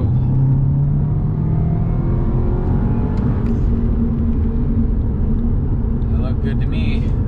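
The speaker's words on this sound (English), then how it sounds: "We're gonna accelerate hard." An Audi S3 with a tuned turbocharged engine accelerates hard on the road, a loud steady engine roar and rising drone from inside the car lasting throughout, with a person talking over it.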